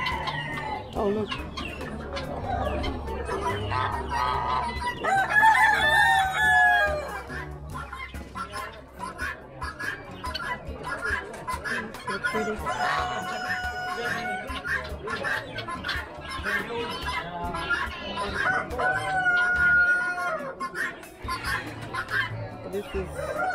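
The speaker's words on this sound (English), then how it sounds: "There's chickens everywhere," Chickens cluck steadily at a livestock auction, with an occasional rooster crow. The birds sound close and busy, with people's voices and background bustle underneath.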